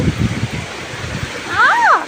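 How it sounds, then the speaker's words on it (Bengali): Heavy rain pours onto a balcony in a dense, continuous wash of hiss, with a brief voice rising over it near the end. "কি যে বৃষ্টি হচ্ছে মানে বেলকনি থেকেও ভেজে যাওয়ার অবস্থা"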